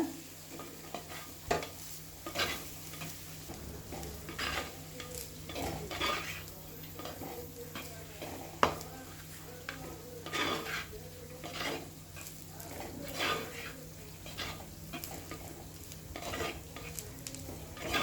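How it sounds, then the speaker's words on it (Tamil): Carrot rice being stirred in a pan, with repeated metal spoon scrapes and clinks against the pan over a soft ongoing sizzle, rhythmic and close for the whole stretch, no talk. "நல்லா மிக்ஸ் பண்ணிக்கோங்க"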